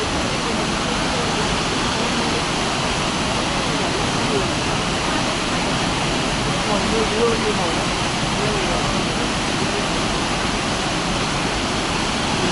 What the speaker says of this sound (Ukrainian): Ось такий водоспад офігенний